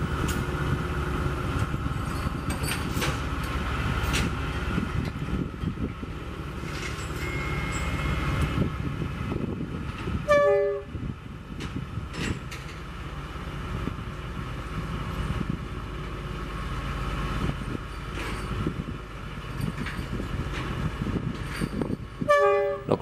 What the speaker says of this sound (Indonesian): Lokomotif ini akan disambungkan ke gerbong datar dan selanjutnya nanti akan ditarik ke depan